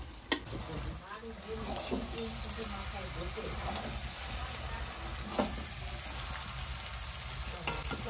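Chicken pieces frying in a pan for chicken curry, with tomato already added, give a steady close sizzle throughout, broken by a few sharp clinks of stirring, while someone talks over the cooking.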